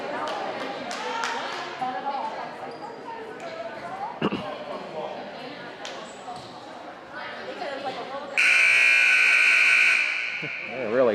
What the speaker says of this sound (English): They're really slamming that buzzer down.